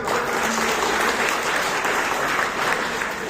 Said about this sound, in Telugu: ఇక్కడ అందరూ చప్పట్లతో తీర్మానం చేశారన్నా